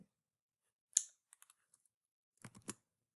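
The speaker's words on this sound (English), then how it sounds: "hold down Control and press V." A few sharp computer keyboard key clicks, a single tap followed by a short cluster of presses, quiet and isolated in near silence.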